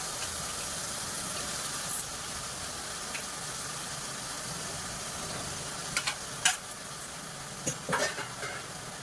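Masoor dal and spices are stirred in a hot pan: a continuous wet sizzle and churning close by, with a few sharp clinks of the spoon against the pan near the end.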